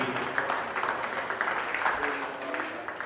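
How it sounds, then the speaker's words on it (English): A crowd applauds steadily for champion dairy cows at a national spring cattle show, a dense, continuous patter of many hands that holds at an even level from start to finish. "give them another big round of applause"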